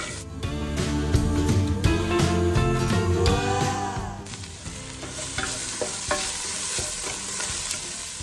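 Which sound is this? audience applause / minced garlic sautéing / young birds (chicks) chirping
minced garlic sautéing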